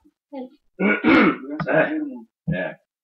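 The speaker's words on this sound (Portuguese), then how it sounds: "desculpe se eu tossi alguma coisa e tal" A person clears their throat and coughs in a few rough, voiced bursts, close and fairly loud, with brief silences between them.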